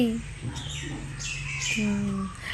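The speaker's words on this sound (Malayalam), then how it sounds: "എന്താടി കിളികൾ കരയുന്നുണ്ടോ" Small birds outside a house give short, bright chirps and tweets in a few quick bursts, fairly close, while a person talks over them.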